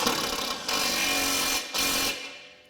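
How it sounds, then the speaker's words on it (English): An impact gun runs new bolts down on a Subaru Forester, with two long buzzing bursts separated by a short pause, loud and close, then trailing off. "These are new, so they should tighten up fairly easily just using my impact gun here."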